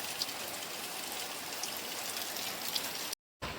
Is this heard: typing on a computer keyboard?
no